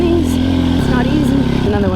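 A Banshee ATV engine runs loud and close on a tight rocky trail, its steady mid-pitched drone shifting slightly as it drops into first gear, with talking over it.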